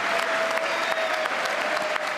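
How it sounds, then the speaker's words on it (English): Republican lawmakers give Trump a standing ovation in the chamber of Congress, a sustained roar of dense applause filling a large hall, heard at a steady loudness. "Republicans offering a standing ovation"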